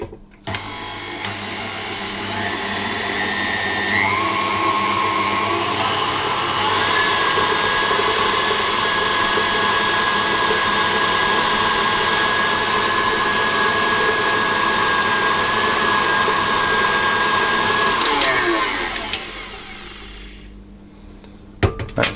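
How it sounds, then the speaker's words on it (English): An electric stand mixer with a whisk attachment whirs steadily while mixing flour into dough, its motor pitch shifting slightly as speed changes, running loud and continuous for about eighteen seconds before winding down. "I mix that with my whisk, and then I'm going to change to my dough hook"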